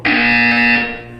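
Loud electronic buzzer in the video game Portal 2, a single steady harmonic tone held for nearly a second before fading, alone with no talk.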